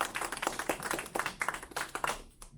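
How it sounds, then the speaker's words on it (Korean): An audience claps to welcome a speaker at a lecture, a brief burst of dense, moderately faint applause with no talk. "뜨거운 박수로 환영해 주시기 바랍니다"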